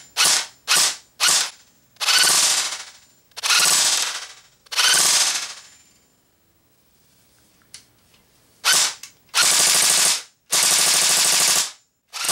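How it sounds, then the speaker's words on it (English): A JG AK-74 airsoft rifle with electric blowback fires close and loud: several quick single shots, three longer rattling bursts, a pause with small mechanical clicks, then more bursts. "This gun has a blowback system, in case you didn't know that already."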